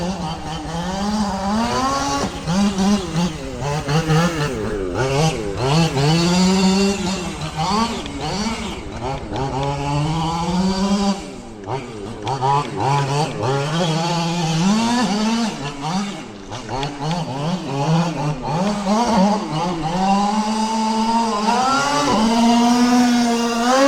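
A Losi 5T 3.0 gas-powered RC truck circles a track, its small two-stroke engine buzzing and revving up and down continuously, pitch rising and falling through turns, loud and close throughout.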